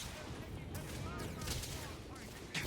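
Video-game gunfire aimed at the player in Starfield: a steady barrage of rapid shots and impacts rattles throughout, fairly loud, with a heavier blast near the end.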